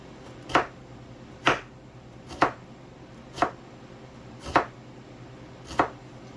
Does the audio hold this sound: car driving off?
no